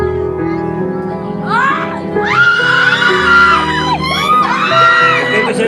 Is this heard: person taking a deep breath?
no